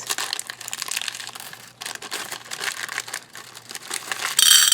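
Plastic bags from a bead jewelry kit crinkle and rustle continuously up close, with dense crackling bursts, a brief pause midway and a louder, brighter crumple at the end.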